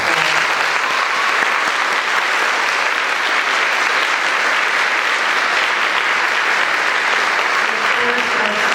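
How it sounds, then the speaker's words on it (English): Loud, sustained audience applause at a 5th grade school winter band concert, a dense, continuous roar of many hands clapping at an even level with faint crowd voices mixed in. "So one more round of applause."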